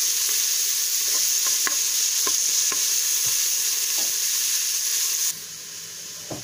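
Finely chopped onion is stirred into fried pork fat in a slow cooker, giving a steady loud sizzle with irregular scraping stir clicks, the hiss dropping slightly near the end.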